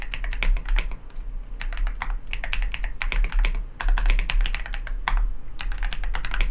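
Bursts of rapid key clicks on a computer keyboard while typing Python code into the IDLE editor, close and crisp, with short pauses between runs over a low background hum.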